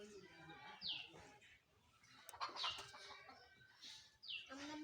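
Chickens at a home cluck and call in several short bursts, fairly close but soft, with faint voices and light household noise in the background.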